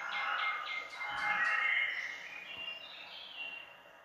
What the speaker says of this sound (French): Un peu avec les chants des oiseaux, on sent que c'est le printemps.